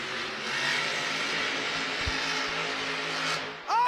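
The Grave Digger monster truck's engine roars loud and close as it spins a donut at a Monster Jam event in Houston. The growl holds steadily, then drops off abruptly near the end.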